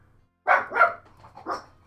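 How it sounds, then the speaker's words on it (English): A dog barks twice in quick succession, close and fairly loud, followed by a softer yip and another bark, with a faint low hum in the background. "Oh, doggy, it's okay."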